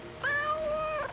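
A single clear, drawn-out meow from a cat in the fantasy RPG Fading Skies rises and holds for about a second, sounding close and alone over a quiet game background.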